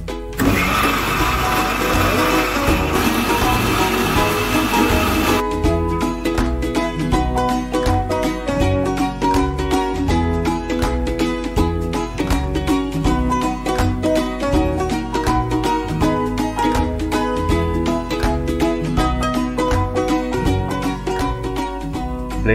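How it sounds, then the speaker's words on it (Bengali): An electric blender whirs steadily as green mango juice is blended, a loud continuous motor drone with a harsher start for the first few seconds, then an even, sustained whine throughout. "চলে আসলাম ব্লেন্ডার করতে।"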